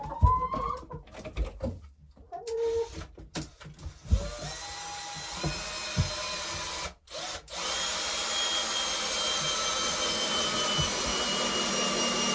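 Chickens cluck in short, close bursts at first, then a loud, steady mechanical drone like a power tool or vacuum takes over and runs to the end.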